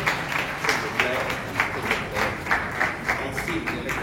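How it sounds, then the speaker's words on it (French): An audience at a live address claps in a steady, rhythmic beat of roughly two claps per second, a full even wash throughout, with a voice speaking over it. "Est-ce qu'on peut applaudir,"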